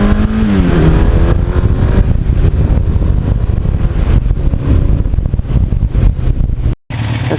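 A 1982 Suzuki GS1100E motorcycle rides along with a loud, rough engine note and heavy wind buffeting, the revs dropping briefly near the start before a sudden cut near the end.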